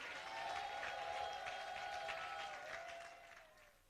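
Church congregation applauding and cheering, a dense sustained wash of clapping with a held tonal drone underneath, steady for about three seconds before tapering off.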